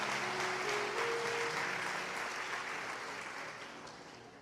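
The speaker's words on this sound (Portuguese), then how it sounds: "Dá um aplauso para comemorar esse negócio." Church congregation applauding in celebration during a sermon, a broad, sustained clapping from a large crowd that holds steady and then gradually fades toward the end, with a faint sung or held tone briefly audible early on.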